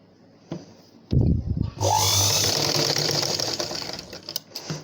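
A sewing machine runs in a steady continuous whirr while stitching a dart on a blouse, starting after a few brief clicks and handling noises and running loud and close for several seconds.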